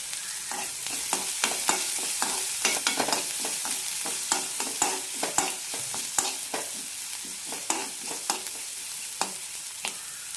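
Sliced onions sauté in a pan for onion chutney, with a pinch of salt. A steady low sizzle runs throughout, broken by frequent sharp scraping and clinking as a spatula stirs, close and fairly quiet, with no voices.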